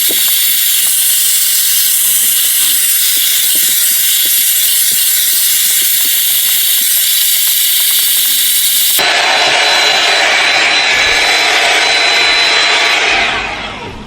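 A Shark SmoothStyle heated brush drying hair gives a steady, loud hiss of blowing hot air throughout, shifting to a brighter, airier tone partway through before fading at the end.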